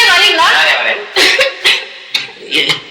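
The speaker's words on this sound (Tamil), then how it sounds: "என்னம்மா இருமுறீங்க? உடம்பு சரியில்லையா?" A woman coughs a few times in short, separate bursts, close and clear, amid a brief exchange of talk.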